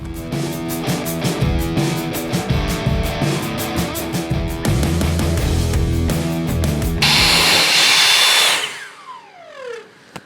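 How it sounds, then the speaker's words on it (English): An Ego 880 leaf blower drying a car: a loud, steady motorized whine blows continuously, shifting pitch partway through, then a harsher rush of air before it winds down and stops. "I'm gonna now blow it off with my Ego 880 leaf blower."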